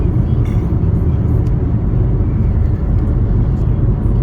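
A car drives slowly around the lanes of a farm, its engine and tyre rumble forming a steady low drone from inside the cabin with faint rattles above.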